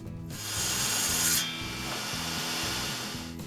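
A table saw blade grinds through wood in a steady, rhythmic rasping cut that abruptly shifts in tone partway through as the workpiece kicks back, loud and close with no speech.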